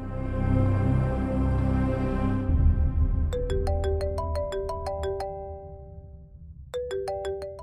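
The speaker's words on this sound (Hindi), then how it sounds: "किसका फोन है?" A phone ringtone plays a repeating bright chime melody in two bursts, the first over a sustained musical bed, clear and close, with a pause before it starts again.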